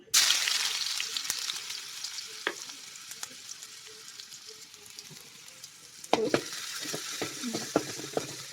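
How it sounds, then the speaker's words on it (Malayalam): Ginger garlic paste frying in hot oil in a pan, a bright loud sizzle that fades a little, then livens again with stirring clatter and scrapes toward the end. "അതിൽ എണ്ണ ചൂടായിട്ടുണ്ട്. അപ്പോൾ നമുക്ക് ജിഞ്ചർ ആൻഡ് ഗാർലിക് പേസ്റ്റ്."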